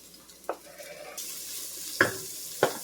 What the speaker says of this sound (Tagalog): magisa muna tayo ng onions. Isunod natin ang garlic